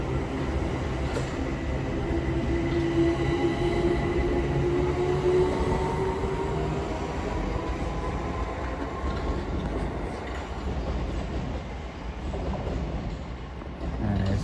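A Thameslink Class 700 electric train, unit 700 055 on a Brighton to Bedford service, rolls into a London terminus with a steady rumble and faint rising whine that stays loud and close throughout.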